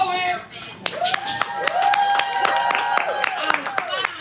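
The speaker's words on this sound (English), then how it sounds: "Clap it up for poet." Scattered, uneven hand claps from an audience at a live spoken-word poetry show, close and crisp, with voices talking over them throughout.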